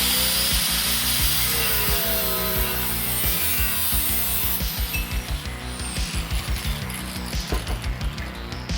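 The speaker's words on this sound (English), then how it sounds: "I measured the distance and used a grinder and a cutoff wheel" Grinder with a cutoff wheel cutting a steel angle for an AE86 control arm rebuild, a continuous harsh whine with rhythmic rasping pulses as the cut progresses, loud and close.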